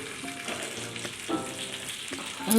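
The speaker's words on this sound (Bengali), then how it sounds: "এরকমভাবে নাড়িয়ে নাড়িয়ে দুধটা কিন্তু রেডি করে নিতে হবে" Milk thickening in a pan for mango ice cream is stirred with soft, repeated scraping strokes and a low simmering sizzle, quiet and close with no talking.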